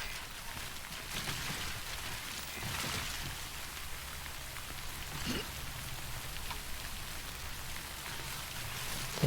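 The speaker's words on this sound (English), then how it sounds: "Don't stay out in the rain any longer than you have to." Rain in the video game Death Stranding falls as a steady, soft, even hiss of drops with no talking, faint and unbroken for the whole stretch.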